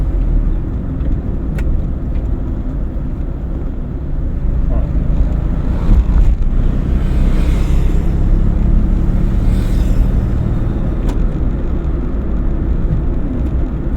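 A car moves along steadily during a driving lesson while the clutch is pressed and the gear is changed to second, a loud continuous engine and road rumble with wind buffeting and no clear distinct shift sound.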